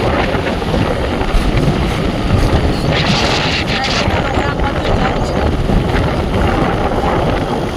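Strong wind roars across the microphone in a constant, loud rumble, with muffled talk partly buried beneath it.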